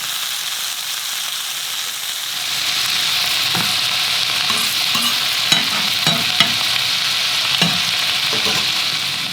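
Large plate-sized pancakes cooking on a griddle give a steady, loud, close sizzle that swells after a quiet start, with a few soft scraping and tapping sounds of a utensil and no talking.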